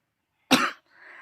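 A single harsh cough from a person with a cold, loud and close, followed by a faint, hissy tail.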